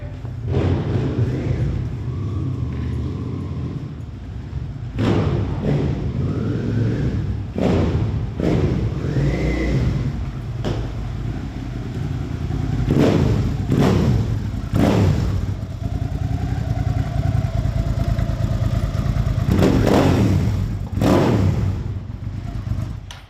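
A 2003 Suzuki SV650 motorcycle engine runs steadily with a low rumble, with several sharp thuds and clattering knocks scattered throughout.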